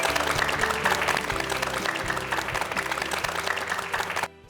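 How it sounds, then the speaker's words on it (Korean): Audience applause at a Korean youth talk event, dense clapping from many hands over a background music track, loud and sustained before cutting off abruptly near the end. "우리 세 분께 다시 한번 박수 부탁드리겠습니다"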